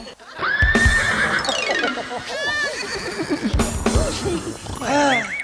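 A cavalry horse neighs loudly and close by in a long whinny, with further shorter whinnies and snorts that follow, and some hoof-like clatter underneath.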